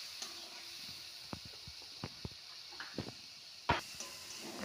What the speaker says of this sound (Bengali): হলুদ গুঁড়ো, স্বাদ মতো লবণ। মশলাটা ভালো করে কষিয়ে নেব।